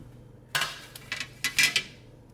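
Metal baking tray of kale chips clatters and scrapes as the chips are flipped, a few distinct clinks and rattles in quick succession, close and fairly soft, with no talking.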